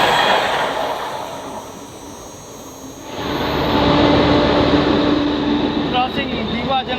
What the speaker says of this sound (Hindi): क्रॉसिंग दीवा जंक्शन, और यहाँ पे राजगीर लोकमान्य तिलक जनता एक्सप्रेस की हमारी क्रॉसिंग हो रही है।